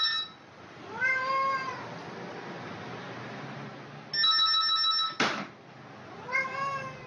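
A cat gives a string of ringing, trilling meows that mimic a telephone ringtone, recurring in several bursts with a brief sharp knock between them.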